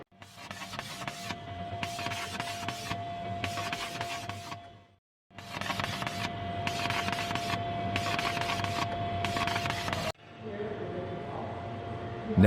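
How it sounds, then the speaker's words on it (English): An any-JET II inline digital label press prints and cuts labels, giving a steady mechanical whir with a constant tone and rhythmic pulsing, broken by a short pause midway and shifting to a different machine sound near the end. "As you can see, the first job is being printed and cut."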